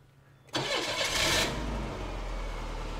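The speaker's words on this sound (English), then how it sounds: "I will complete this video by letting you listen to the dulcet tones of the Iron Duke's engine." A GM 2.5L Iron Duke four-cylinder engine cranks and fires after a quiet start, surging loudly for a moment before settling into a steady, rumbling idle close by.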